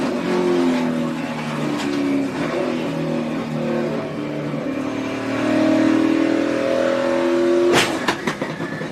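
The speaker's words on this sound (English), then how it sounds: "listen to the motor. Listen to the motor accelerate." A NASCAR race car at the 2014 Sprint Unlimited, coming off a big crash, its motor revving and accelerating hard. The engine roars loud and continuous with rising pitch, and a sharp burst of noise lands near the end.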